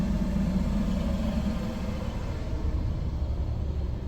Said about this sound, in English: Oh, that's a street sweeper.